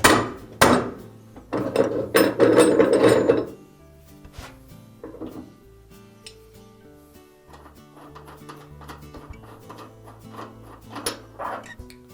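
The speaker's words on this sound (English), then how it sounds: "while holding the inner basket from turning, just loosen that nut" Loosening the inner tub hub nut on a GE washer, a loud burst of metallic clanks and knocking at the start, then quieter scattered clicks and taps as the nut turns, no talking.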